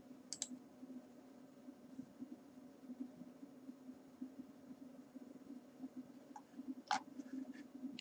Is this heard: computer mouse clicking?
yes